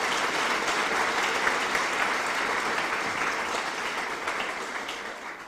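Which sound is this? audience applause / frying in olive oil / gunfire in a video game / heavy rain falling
audience applause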